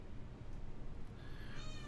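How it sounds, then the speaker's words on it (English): A domestic cat meows a few times, close and fairly faint, with a higher, thin cry rising near the end over a steady low background hum. "All right, I'm gonna let the cat out."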